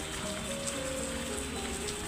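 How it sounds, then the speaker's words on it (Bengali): Rain falls outdoors after a windy storm, drumming softly and evenly on the surroundings with scattered distinct drips, a quiet continuous patter without speech. "এমন বৃষ্টি হয়েছে আজকে গাছে পানি দেওয়া লাগবে না"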